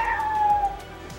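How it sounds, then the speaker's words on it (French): A cat gives a single drawn-out meow that fades near the end, heard close against a low background hum. "Bah oui, il y a le chat."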